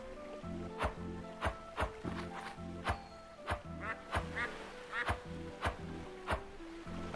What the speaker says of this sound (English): You down there quacking.